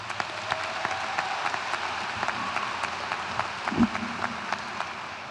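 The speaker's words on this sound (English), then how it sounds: "Can I get a round of applause for our faculty?" Steady applause from a crowd at a high school commencement ceremony honoring the faculty, sustained and even throughout, with occasional louder claps standing out.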